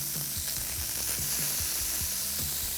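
Salmon pieces frying in a hot pan give a loud, steady sizzle, with soft, repeated scraping and turning as the pieces are flipped, and no voices.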